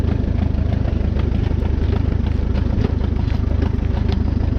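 A Farmall F-20 tractor runs in a field during baling, a steady low, rumbling engine chug with an even beat, fairly close and continuous, with no talk over it.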